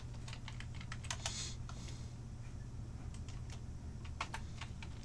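Computer keyboard keys tapped steadily while drafting in AutoCAD, with quick clusters of clicks and repeated spacebar presses, close and clear over a low steady hum.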